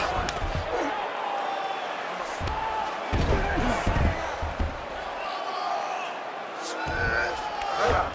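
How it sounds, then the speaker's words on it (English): A crowd roars and cheers through a UFC 5 mixed martial arts bout as the fighters get back to their feet, a steady arena swell under commentators' voices, with occasional thuds and impacts. "huge pop from the crowd as the fighters get back up to their feet"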